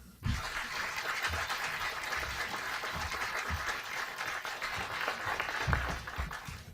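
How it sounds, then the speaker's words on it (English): A crowd applauding steadily for several seconds at a mayor's press briefing, dense and even clapping from many hands, fairly loud throughout. "Let's give another round of applause to our mayor."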